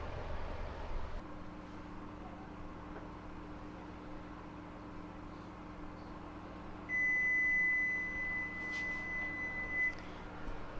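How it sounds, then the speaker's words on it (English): A kitchen timer sounds during muffin baking, a steady electronic tone lasting a few seconds over low appliance hum, close and fairly loud, with no talking. "the timer just went off"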